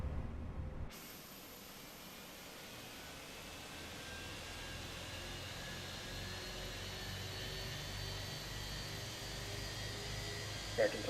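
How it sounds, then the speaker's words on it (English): An airliner jet engine in a flight simulator spools up as engine number one starts, a steady broadband roar and hiss swelling slowly after a brief click, with a faint rising whine. "Go engine number 1. We'll get that bad boy spun up. These engines sound so good"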